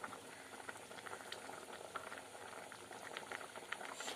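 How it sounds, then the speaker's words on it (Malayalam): Quiet bubbling and soft popping of ivy gourd curry simmering in a pot, a faint continuous patter with occasional small bursts, heard close and alone. "അപ്പോൾ നമ്മുടെ കറി ഇപ്പോൾ തിളച്ച് വരുന്നുണ്ട്"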